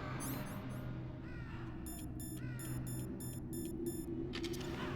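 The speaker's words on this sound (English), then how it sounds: "I don't like these crows" Crows cawing in the video game Metal Gear Solid, a series of rapid harsh caws repeating in bursts over a steady low ambient drone, with a high repeated electronic tone.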